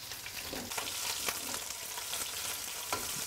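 Chopped mushrooms fry in a pan, browning with a steady close sizzle and a few soft stirring ticks, with no talk.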